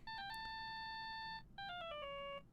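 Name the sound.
phone ringtone from a video game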